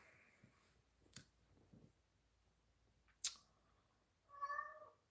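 A cat gives a short meow near the end, preceded by a few faint clicks and a sharp snap, in a quiet room with no talking.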